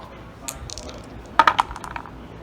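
Handful of seven dice tossed onto a table during a tabletop miniatures battle game, a quick cluster of sharp clattering clicks that settle after a second, over quiet room tone.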